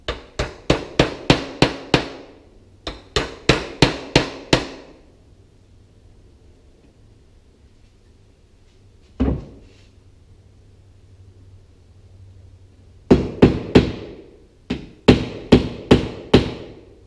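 A hammer taps a piece into wood for a wooden flag build, setting it about a sixteenth of an inch deep along a line. Close, sharp knocks come in quick bursts of four or five, then a long pause, a single blow and more bursts.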